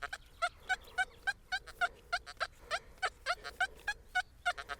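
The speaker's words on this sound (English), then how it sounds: "Can you hear that feedback from the probe?" An XP Deus metal detector probe gives quick, steady pulses of chirping ground-feedback tone over faint background hiss, close and fairly quiet, with no voices.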